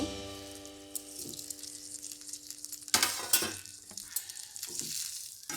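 Boiled cauliflower pieces fry and sizzle in a pan for a Bengali-style phool kopir torkari, with steady close sizzling, a few stirring scrapes and light clinks of a utensil against the pan.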